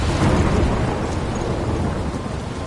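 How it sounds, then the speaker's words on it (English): A video game thunderstorm gives off a dense, constant roar of rain with a deep rumbling undertone. The sound is loud and unbroken throughout. "I'm trapped in a storm?"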